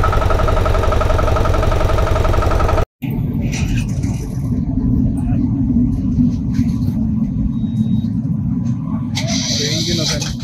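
A train locomotive rumbles steadily past a level crossing nearby, a continuous heavy engine drone with a brief cut-out early on, while people talk over it.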